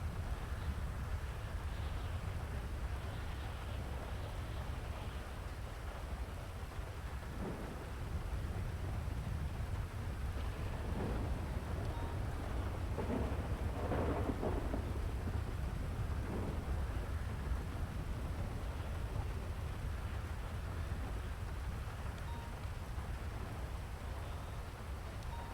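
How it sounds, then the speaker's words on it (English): Steady heavy rain hisses throughout, with a few low rumbles of thunder rolling in midway, no voices. "God, the rain is so fucking loud."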